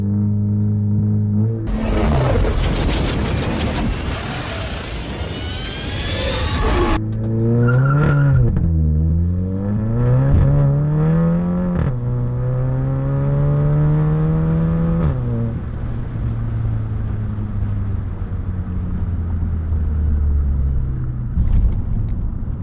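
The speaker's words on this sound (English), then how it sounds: "That's all it does is wheel hop" VW MK7 GTI with DSG doing a launch control start: a hard rev burst, then the engine climbing through gears with repeated stuttering wheel hop and tire scrabble, loud and close.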